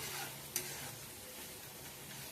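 Cumin, coriander and ginger tempering frying in a pan, a faint steady sizzle with one brief tick of stirring, no talk.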